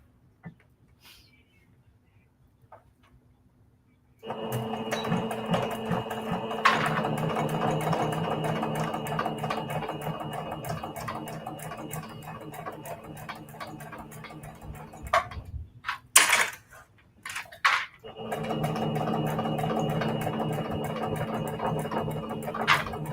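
A sewing machine stitches a quilted pocket prayer heart of shabby fabric at a 3.5 stitch length, running in a long steady burst, pausing briefly with a few clicks, then whirring again close by.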